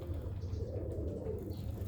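Roller pigeons, excess hens and young birds kept by a breeder, give soft low cooing close by, a continuous murmur of several birds with no talk over it.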